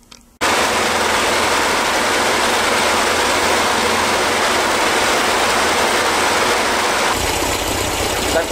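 A vintage car engine idles steadily during carburetor adjustment, a loud continuous rumble that starts abruptly and holds an even pitch, its tone shifting slightly near the end.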